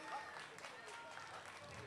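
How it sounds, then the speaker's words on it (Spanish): An audience at the Semana Contulmana summer festival applauds the folk group Nahuel as they leave the stage. The applause is faint and distant, a soft continuous patter heard under a voice speaking. "Más fuerte el aplauso para despedirlos"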